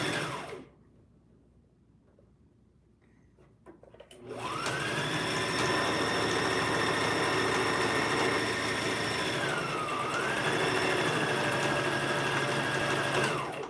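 A sewing machine back-stitching fabric for a swing abaya, starting after a quiet moment and then running as a steady, close, loud whirring hum that dips briefly in pitch as the stitching slows and resumes.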